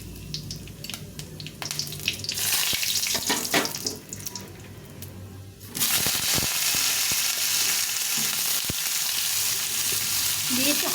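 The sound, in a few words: ridge gourd frying in hot oil with dried chilli and nigella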